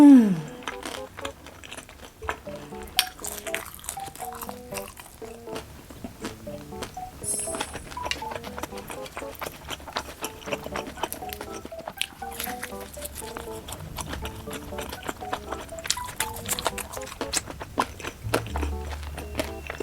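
Crunchy bites and chewing on a crispy deep-fried cheese dumpling, close and steady with irregular crackly crunches and no talk.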